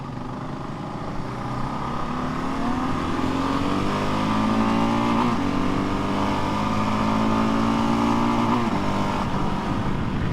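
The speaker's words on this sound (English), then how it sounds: "Pretty nice little motorcycle" A Kawasaki KLR 650 S motorcycle engine drones steadily while riding, its pitch rising and falling with shifts in speed, loud and continuous with wind noise.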